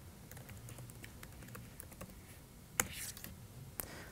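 Quick, light taps on a computer keyboard as a password is typed at a console during network gateway setup, soft and close with irregular keystrokes and a couple of sharper clicks near the end, no talking.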